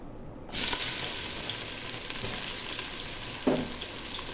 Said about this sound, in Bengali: তেল গরম হয়ে গেছে, এখন আমি পেঁয়াজ কুচি দিয়ে দিব।